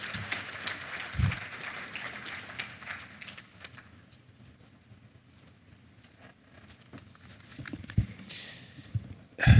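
Audience applause for the livestock minister at an economic conference in Nigeria, a broad rolling clatter of clapping that fades through the middle and swells briefly again near the end.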